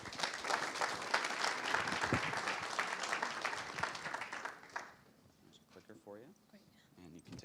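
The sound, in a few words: audience applause for speaker coming on stage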